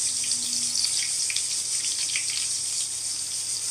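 Sliced onions sizzling in hot oil in a kadai, a continuous close hiss and crackle with scattered pops that holds steady throughout, no voices.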